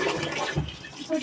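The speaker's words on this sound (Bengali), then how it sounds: "একটু চাল তো ধুয়ে নিলাম" Rice grains being rinsed by hand in water at home, a brief soft swishing and sloshing, faint and close.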